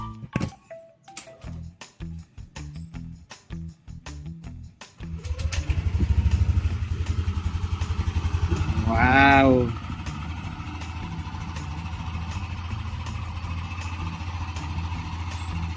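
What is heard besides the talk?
Yamaha Nmax V2 scooter engine running during test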